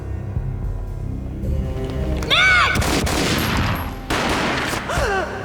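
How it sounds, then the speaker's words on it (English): Gunfire in a Max Payne video game cutscene, with a burst of loud booming shots around the middle followed by another blast, mixed with a shout and a tense musical score. "A gunshot boomed and she fell down in slow motion."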